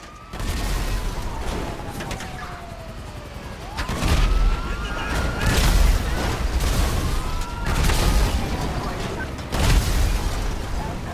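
Tank cannon fire and explosions at an airport in GTA 5, with several heavy booms landing every couple of seconds over a busy bed of game noise and whooshing projectiles.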